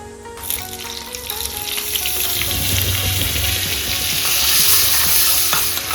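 Refined oil and a spoon of butter heating in a pan for dal tadka, giving a continuous crackling sizzle that grows slightly louder and busier over several seconds, close and without talk.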